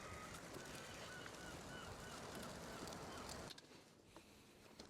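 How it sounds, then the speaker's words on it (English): Seagulls screech faintly and far off on a beach at Mablethorpe in the early evening, over a steady wash of wind and surf that drops away near the end. "the seagulls are like screeching away in the background?"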